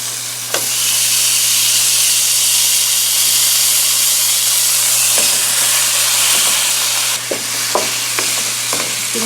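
Slices of steak sizzle in butter in a hot pan, a loud, close, continuous hiss with a steady low hum underneath and a few scattered taps and scrapes as the meat is moved.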